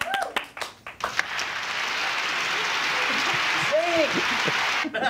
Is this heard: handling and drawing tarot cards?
no